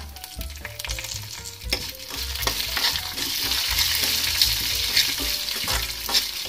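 Coriander seeds, sesame seeds and green chillies crackle and hiss in a hot pan as a spoon stirs, giving a steady close sizzle with occasional scraping taps.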